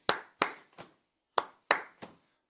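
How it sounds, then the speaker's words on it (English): Concert audience members beat out a rhythm twice: two sharp hand claps, then a softer, duller hit, with a short pause between rounds and nothing else audible. "we're gonna go clap, clap down, clap, clap down, clap, clap down"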